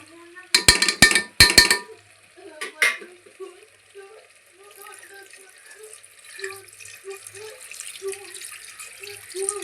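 Water is poured into a pot of mutton curry: a few loud splashing bursts at first, then quieter trickling and light clinks.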